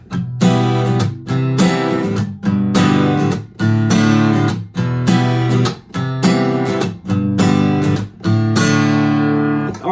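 Acoustic guitar strums a song using easy two-finger chords, a loud, steady rhythmic pattern of chord strokes with brief gaps between changes and no voice.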